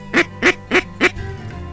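Four evenly spaced, loud, nasal quacks from redhead ducks on the Texas coast during a duck hunt, close by and alone, followed by a brief quiet tail.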